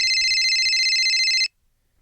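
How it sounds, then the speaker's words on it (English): A telephone on a radio call-in show rings with a steady electronic trill for about a second and a half, loud and up close, then cuts off into silence. "I think I hear the phones."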